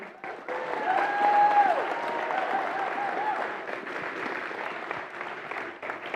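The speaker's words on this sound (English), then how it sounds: "Let's have a round of applause for all the teams competing here today." Crowd at a FIRST Tech Challenge robotics tournament claps for the competing teams, moderate applause swelling early then holding steady, with a brief whistle and scattered voices in the hall.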